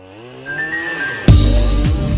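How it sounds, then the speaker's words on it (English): A Husqvarna backpack chainsaw clearing young forest starts with a faint rising whine, then bursts into a loud, close, steady buzzing roar that holds to the end. "New opportunities and a greater interest in spacing could be good byproducts of the new backpack chainsaw."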